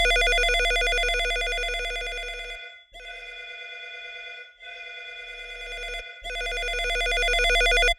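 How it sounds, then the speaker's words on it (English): A telephone ring synthesized with the Serum synth repeats in bursts, a bright warbling tone that swells, drops back to a muffled distant version, then returns loud. "it almost makes it sound like there's a phone ringing in the other room"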